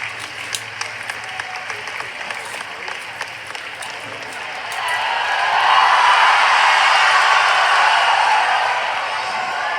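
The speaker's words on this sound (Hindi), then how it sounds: "तब तक आपकी तालियां बजती रहनी चाहिए।" An audience at a kavi sammelan (Hindi poetry gathering) in Shikharji breaks into sustained, loud applause from the middle of the clip onward, after a stretch of scattered claps and crowd noise.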